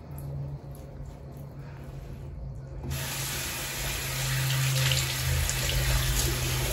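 Tap water runs steadily into a sink for face washing, first softer, then a sharper, louder gush after the flow is turned up, continuous and close.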